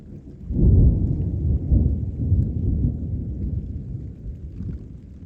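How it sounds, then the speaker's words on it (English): Deep, rolling thunder rumbles loud and low over an outdoor stone wall under repair, swelling early, then grumbling on and slowly fading across several seconds with no voices. "the thunder was getting nearer"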